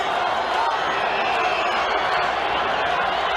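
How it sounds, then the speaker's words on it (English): A baseball crowd at Game 4 of the 1979 World Series chants "Let's go Bucks," heard as a steady, dense roar of many voices filling the stands with no break. "Crowd chanting, "Let's go Bucks.""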